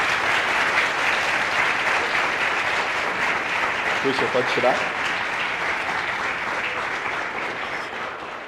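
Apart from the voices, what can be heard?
audience applause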